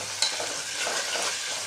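Ginger garlic paste being stirred with chicken in a hot pan for chicken pulao, a steady close sizzle and frying hiss with soft scraping strokes, no voices.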